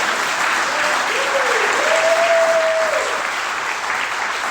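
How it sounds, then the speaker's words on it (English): A room full of people at a recovery group meeting breaks into steady, dense applause, loud and continuous throughout, with a brief voice or whistle-like tone rising briefly above the clapping. "Why don't we just give the Lord a round of applause for bringing Drew into my life?"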